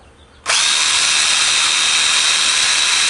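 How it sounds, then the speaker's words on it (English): A power drill with an 1/8 inch bit suddenly spins up drilling holes in a metal bracket on a Toyota Tundra, running at a constant high-pitched whine, loud and close, without letting up. "you're going to take your drill motor, and it's an 1/8 inch drill bit here"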